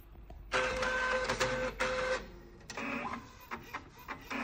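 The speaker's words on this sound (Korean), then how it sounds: "테스트 인쇄 보냈고요" An Epson 1390 printer fitted with an auto roll back DTF module prints a test page, its mechanism whirring and clacking loudly and up close with steady pulsing bursts, and a tonal whine running through the first half.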